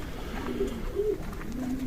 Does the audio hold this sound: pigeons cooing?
yes